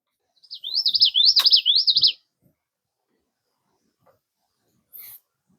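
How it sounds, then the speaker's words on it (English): A common yellowthroat warbler sings a rapid, rhythmic series of bright warbling phrases for about a second and a half, then falls quiet. "There's a common yellow throat up there. Really pretty warbler."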